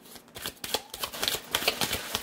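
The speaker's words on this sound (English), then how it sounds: "Come on now. One more shuffle." Tarot cards being shuffled by hand in a series of quick riffling, slapping bursts of papery rustle, close and fairly loud with a steady uneven rhythm and no talking.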